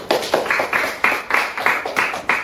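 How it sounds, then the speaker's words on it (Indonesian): Steady, brisk clapping from a small group during a class presentation session, a dense run of overlapping hand claps in even pulses throughout, fairly close and lively. "selanjutnya bagian berarti tepuk tangan dulu Pak"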